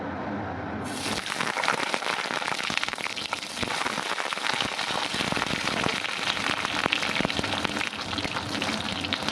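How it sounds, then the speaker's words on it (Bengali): Eggplant slices hit hot oil and fry with a loud, dense, continuous sizzle and crackle that starts abruptly and keeps going without pause; no one talks. "তেল গরম হয়ে গেছে, দিয়ে দিচ্ছি বেগুন।"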